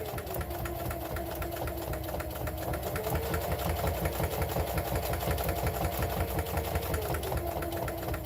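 A sewing machine runs steadily with a fast, even mechanical stitching rhythm, stitching down the length of a reversible fabric mug rug made from fat quarters, close and continuous throughout.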